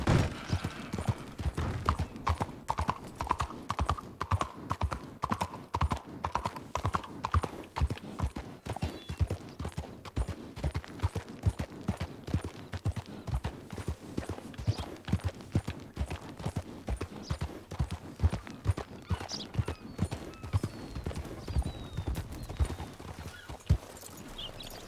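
Horse hooves clip-clop in a western roleplay video game, a steady rapid rhythm of hoofbeats continuing throughout at close range, with a brief whinny-like tone early on and no talk over it.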